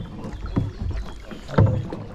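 Kayak paddling on a Spreewald river in Germany: two distinct paddle strokes splash and drip close by, spaced about a second apart against quiet water.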